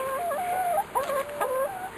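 Chickens cluck and call near a backyard chicken coop in a garden, a few drawn-out vocal cries close by over a steady hiss, with no talk.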